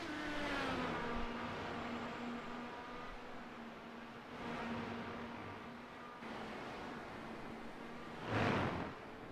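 IndyCar race cars in the iRacing video game at Twin Ring Motegi, a high whining engine drone that shifts pitch as cars pass, with a louder whoosh near the end and no talk.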